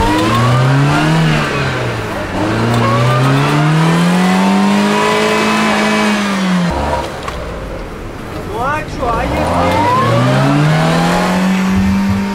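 A Toyota Prado fitted with chains drives off-road across a field, its engine loud and close, rising and falling through long revs with a brief dip midway, and a voice talks over it.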